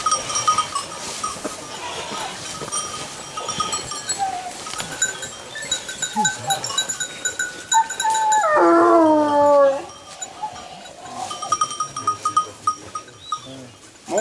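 A pack of hunting dogs bays and howls outdoors during a hound pack trial in Corveissiat, with layered distant cries and one louder, drawn-out howl rising near the middle.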